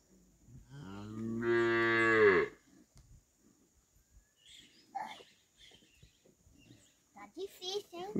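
A cow on a farm gives one long, loud, drawn-out moo close by, followed by quieter scattered farm noises and people talking.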